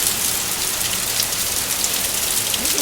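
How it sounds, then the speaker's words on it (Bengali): Heavy rain pouring down outdoors, a loud, close, unbroken hiss of drops drumming on surfaces throughout, with no talking. "জোরে বৃষ্টি এসছে দেখো কি জোরে বৃষ্টি এসছে"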